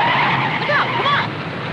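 Car tires skidding in a 1950s TV crime drama, a short, loud screech with a smeared squeal over broadband road noise, lasting under two seconds.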